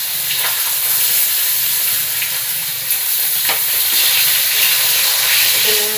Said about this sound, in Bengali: আলুগুলোকে ভেজে নেবো লাল লাল করে